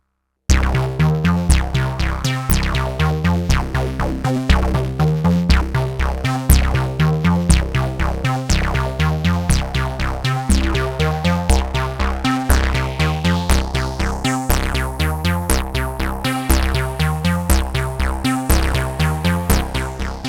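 Repeating analog synth bassline sequence from an UNO Synth Pro X in bassline mode, punchy plucked notes in a steady looping rhythm, a filter sweep opening up partway through; loud and alone.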